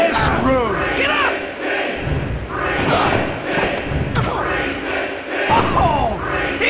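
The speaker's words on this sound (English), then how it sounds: "This crowd is going berserk, man. I can hardly hear you, Shane." Roaring wrestling arena crowd from the PS1 game WWF Attitude during a Royal Rumble match, a dense continuous wall of cheering with shouts and thuds of in-ring impacts, loud and sustained throughout.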